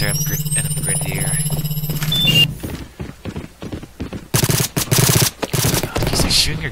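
Gunfire in the video game Ballistic Overkill rattles in rapid automatic bursts that are loud and close, mixed with other game sounds and a rising electronic tone at the start.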